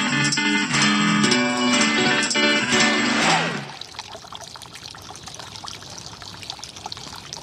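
Water trickles steadily from a homemade backyard drip feature built to attract birds, a soft continuous patter that follows a loud burst of layered tonal sound in the first half.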